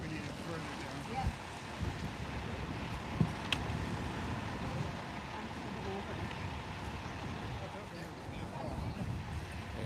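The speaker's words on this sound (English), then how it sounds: "It's fairly windy." Steady wind buffets the microphone outdoors at a live protest, with broad, rumbling noise, and a few brief knocks and faint voices surface over it.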